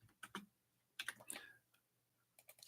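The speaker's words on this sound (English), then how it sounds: "It's been a while since I've been typing" Typing on a computer keyboard during a live reading stream, sparse clusters of quiet, close clicks separated by short pauses, with no talking.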